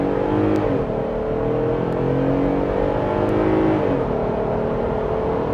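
A 2025 Jeep Gladiator High Tide pulls away hard from a stop, its engine note climbing steadily through a gear, dipping briefly at a shift and rising again, heard loud from inside the cabin.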